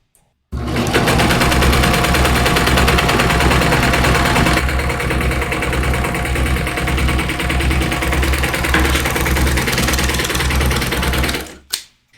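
An overlocker serger sews a rolled hem in a workshop, its rapid mechanical stitching loud and steady for about eleven seconds before cutting off abruptly.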